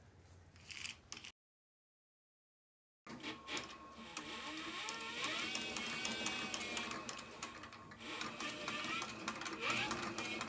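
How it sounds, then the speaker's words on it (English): A leather sewing machine stitches through leather while its bobbin winder runs, a close, steady mechanical whirring and rapid needle clatter after a brief dropout near the start, with no talking. "While I'm sewing, my bobbin winder is winding a bobbin."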